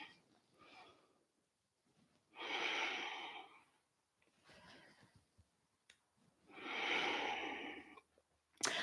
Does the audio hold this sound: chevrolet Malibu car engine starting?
no